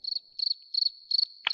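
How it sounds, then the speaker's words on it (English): A cricket chirps in four evenly spaced bursts of rapid high trills over a near-silent background, with a short click at the very end. "It's giving crickets."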